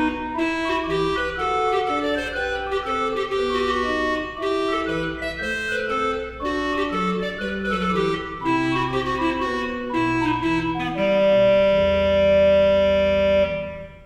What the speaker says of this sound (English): A composer named Barbara Strozzi used all the sounds in the organ to create a piece called Canzona that sounds like this.